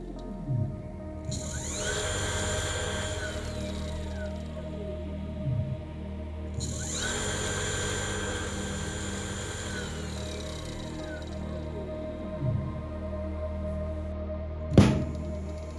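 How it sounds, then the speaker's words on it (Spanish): A homemade 10 kW brushless motor-generator built from an old alternator spins up to full speed with a rising electric whine. It settles into a steady high hum, repeats the ramp once, and ends with a sharp thunk. "el motor comienza a acelerar. Hemos alcanzado la velocidad máxima del motor"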